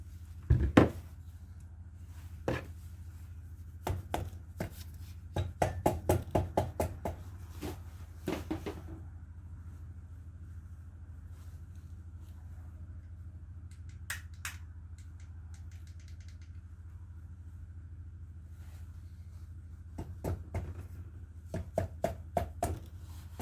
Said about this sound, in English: I'm now going to tap that block back home